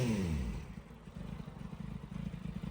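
A Kawasaki Z750 motorcycle, freshly fitted with new exhaust studs, chain, sprockets and pads, idles steadily nearby with a low, even burble after a brief rev at the start.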